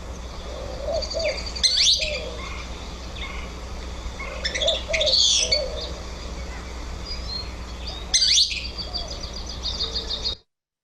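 A noisy flycatcher species, recorded in sycamore and cottonwood habitat in the Patagonia Mountains, gives a few short bright calls at intervals over faint background ambience, with no talk.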